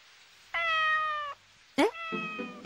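A cat lets out two close, clear meows, the first drawn out and steady, the second rising sharply, with only faint room noise around them.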